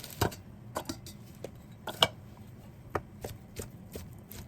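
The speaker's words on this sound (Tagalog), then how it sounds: "hiwain natin yung atay ng ganito para ipuput processor, mabilis siya" A knife chops through cooked liver on a board in a home kitchen while preparing liver spread, giving sharp, irregular cutting taps that sound close and fairly quiet, with no talking.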